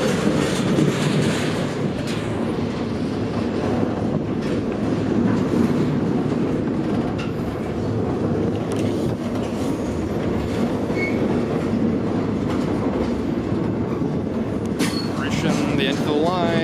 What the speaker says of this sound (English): The reason the train's been going so slow today